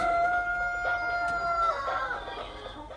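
A farmyard hen in a snowy barn setting clucks and calls in drawn-out tonal notes, fairly close and steady, with soft rustling in the background and no talk.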